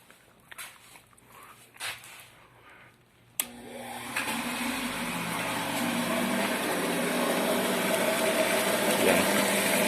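After a few faint knocks and handling noises, a water pump switched on for a bench test starts with a sharp click and settles into a steady, rising whirring hum that continues to the end.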